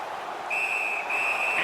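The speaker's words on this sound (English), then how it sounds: "the referee's whistle has stopped play" Referee's whistle blowing a long sustained tone to stop play during a Buffalo Sabres ice hockey game, sounding over steady arena crowd noise.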